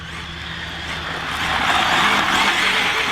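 A ZD Racing EX-07 RC drift car slides continuously, its whining electric drivetrain and tyre hiss rising in loudness midway, close and unbroken, with no talk over it.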